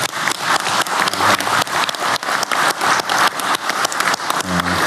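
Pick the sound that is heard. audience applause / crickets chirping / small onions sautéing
audience applause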